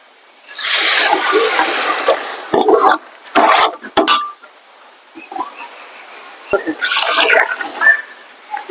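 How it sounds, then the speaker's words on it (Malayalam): Water is poured from a glass into a pot of rice in a home kitchen, several loud splashing bursts separated by brief pauses, with faint clinks of the pot between pours. "ഈ രണ്ടര ഗ്ലാസ് അരിക്ക് അഞ്ച് ഗ്ലാസ് വെള്ളം നമ്മൾ ഒഴിക്കാം"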